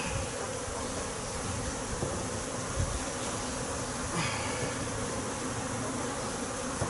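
Honeybees swarm around an opened hive during a split, giving a dense, constant buzz close by with small bumps and handling noises along the way.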